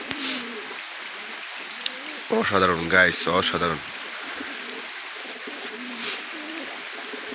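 Pigeons coo softly in a home loft, including Bombay and local breeds, with faint bird calls running through the clip while someone speaks briefly in the middle.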